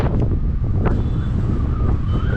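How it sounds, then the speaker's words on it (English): Strong wind buffets the microphone at the top of Highlands Park, a hilltop park in Baku, Azerbaijan, as a steady low roar with gusty rumble and faint distant traffic beneath it. "It's really windy up here."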